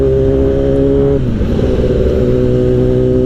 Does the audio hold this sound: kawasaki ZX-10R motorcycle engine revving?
yes